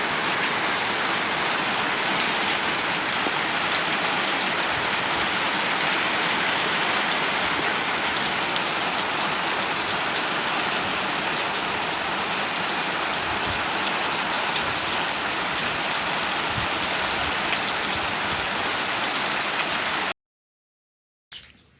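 Heavy rain with big drops falls steadily on a village, a dense, loud, even hiss that continues unbroken for about twenty seconds and then cuts off abruptly.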